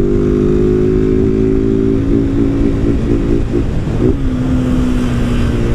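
A Honda Titan 160 motorcycle engine fitted with an aftermarket filter runs steadily at idle, a loud, close, even drone with a slight wobble in pitch partway through.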